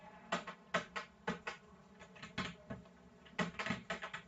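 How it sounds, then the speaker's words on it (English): Keys clatter on a computer keyboard while code is typed in to set up a React app, in irregular bursts of several quick clicks with brief pauses, close and fairly quiet, no talking. "we need to type in down the code"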